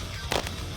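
A Cobra Clutch Slam signature attack lands in the WWE Immortals mobile fighting game, a single sharp, bursting impact with a quick echoing second crack, brief and moderately loud over a low hum.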